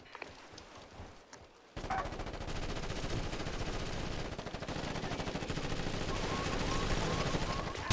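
Rapid automatic gunfire rattles in Ghost Recon Advanced Warfighter, a sustained dense burst of shots that starts abruptly after a quiet moment and keeps going at high, steady intensity.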